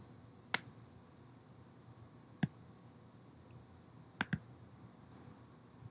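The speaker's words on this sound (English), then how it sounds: "you can also just click anywhere outside of that field and then click back" Sparse computer mouse clicks on a quiet desk, a handful of sharp isolated taps spaced irregularly, including a quick double click near the end.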